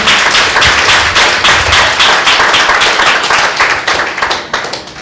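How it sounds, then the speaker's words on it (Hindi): A church congregation at a prayer meeting claps loudly in unison after the sermon, a dense, close, steady burst of hand claps filling the whole span. "एक जोरदार ताली आज के वचन के लिए"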